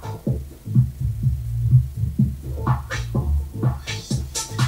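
A low pass filter on a Pioneer DJM-2000 DJ mixer is applied to a track, leaving a muffled, throbbing bass-heavy beat whose pulses repeat steadily while treble creeps back toward the end.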